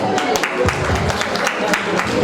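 An audience at a diploma ceremony in Bouaké claps and applauds, a dense patter of many hands heard nearby, with voices mixed in.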